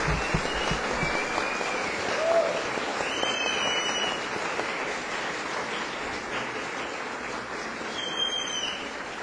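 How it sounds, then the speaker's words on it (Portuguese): Sustained crowd applause fills the municipal council chamber in Criciúma during a special session honoring a school, a steady dense wash of clapping that continues for several seconds without talk. "que a gente desse uma grande salva de palmas para o colegião,"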